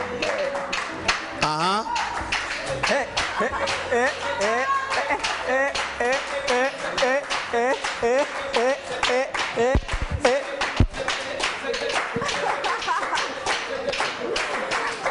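Audience members clap steadily in rhythm at a live concert while a voice sings or calls out over the beat, the claps sharp and evenly spaced throughout.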